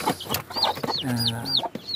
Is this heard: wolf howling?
no